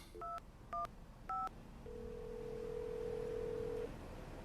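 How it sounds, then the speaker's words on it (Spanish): Mobile phone keypad tones: three short, distinct dialing beeps in quick succession, followed by a longer steady tone, all faint and close with no talking. "¿Alguna vez has marcado su número de móvil?"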